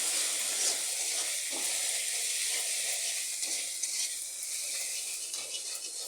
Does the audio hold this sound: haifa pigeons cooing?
no